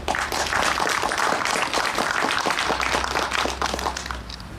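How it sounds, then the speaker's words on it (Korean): A museum opening ceremony audience bursts into brisk applause, dense overlapping claps filling the room and holding strong before thinning slightly at the close. "큰 박수를 좀 보내주시기 바랍니다"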